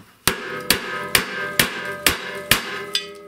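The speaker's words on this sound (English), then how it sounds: "I'll just try with my 1/4 inch pin punch" Seven sharp metallic hammer strikes on a 1/4-inch pin punch against a rusted, seized snowblower shear pin, evenly spaced about half a second apart, close and loud with brief ringing after each blow.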